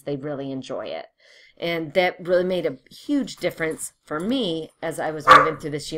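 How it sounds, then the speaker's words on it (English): An excited dog barks and yips in short bursts, partly masked by steady speech running through most of the stretch. "Excuse my dog, who just got very,"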